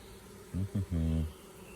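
A close, low buzz of honey bees at a strong hive rises in three short bursts, the last one longer, over a quiet background hum.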